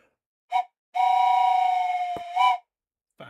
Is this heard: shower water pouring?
no